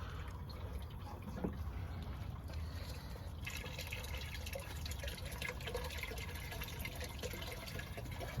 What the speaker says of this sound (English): let's turn the water back on